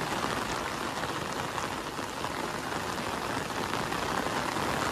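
Heavy rain pours steadily over a mountain village on an afternoon, a dense, continuous hiss of drops on surfaces, close and loud without a break.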